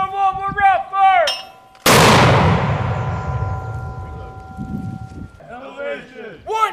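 A Fuji Viper 21.4 mortar fires a single round on a range with one sharp, loud blast and a long fading echo, framed by shouted fire commands before and talk after.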